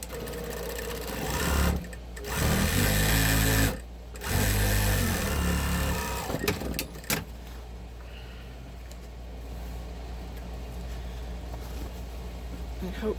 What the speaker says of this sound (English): sew in a little deeper.